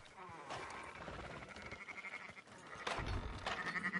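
Sheep bleat in Red Dead Redemption II, several quavering calls at moderate distance, with a stronger burst near the end over a busy game background.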